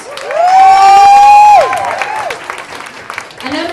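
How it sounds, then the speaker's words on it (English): Audience members at a transplant charity fundraiser clap and cheer for organ donors, with a loud sustained whoop and shouting voices over scattered applause that then settles into a murmuring crowd. "So please, a round of applause to all the organ donors in the audience."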